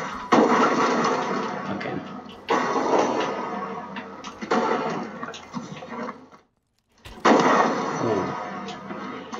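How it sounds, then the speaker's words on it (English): Gunfire in Call of Duty Advanced Warfare arrives as repeated loud bursts, each lasting a second or two, separated by short gaps, with a brief total silence near the end before one more burst. "I'm getting hit by bullets and I'm shooting bullets"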